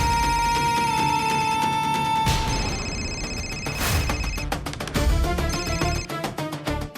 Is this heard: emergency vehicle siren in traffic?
no